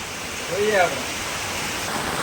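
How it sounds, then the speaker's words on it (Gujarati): Steady, hissing rain falls heavily and continuously, a dense wash of noise, with a brief voice-like sound rising over it. "ખરેખર વરસાદ આવી ગયો છે"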